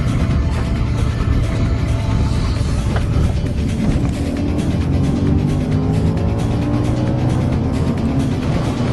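An all-wheel-drive Audi car driven sideways, its engine a steady loud roar with continuous road and tire noise throughout, no talk over it.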